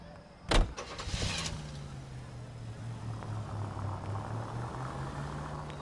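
A car engine in the game L.A. Noire idles and revs with a steady low drone, after a sharp thud and a short burst near the start, holding at a moderate level throughout.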